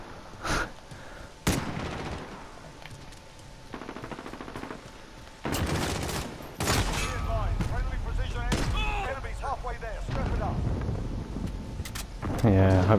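A sentry turret fires in Call of Duty: Modern Warfare (2019) on PS4: rapid bursts of automatic gunfire come in irregular volleys, mixed with other game noises and occasional voices.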